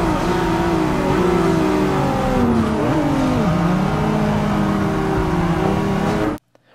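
BMW M4 accelerating hard toward top speed, heard from inside: a loud, climbing engine drone with rising and falling pitch as gears shift. The sound stops abruptly near the end.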